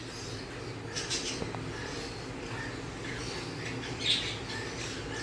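Conure and cockatiel chicks squawk in small bursts during hand-feeding, near and fairly faint over a steady background hiss, with one sharper chirp standing out toward the end.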